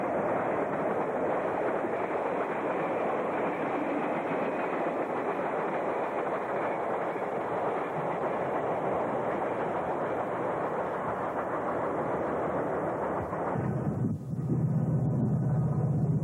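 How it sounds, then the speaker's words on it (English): Three locomotives meet a train at Bear on the York subdivision, giving a long, loud rumbling roar of rolling cars that cuts off sharply near the end and leaves a lower idling hum. "A trio of locomotives meet a train at Bear on the York subdivision"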